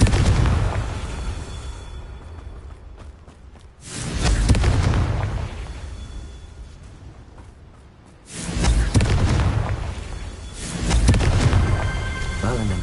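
The Confringo spell explodes twice in a Harry Potter video game, each a heavy, booming blast with a long rumbling tail that fades before the next one hits.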